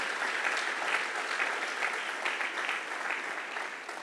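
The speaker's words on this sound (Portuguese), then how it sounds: "Você pode dar uma salva de palmas para o Senhor?" A congregation in a church applauds, a dense, continuous clapping heard from within the crowd at moderate loudness. It holds steady for several seconds and tapers slightly at the end.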